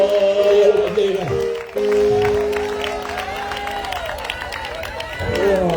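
Church congregation at a live evangelistic campaign service applauding strongly, a steady wash of clapping and crowd noise that dips briefly then swells again toward the end.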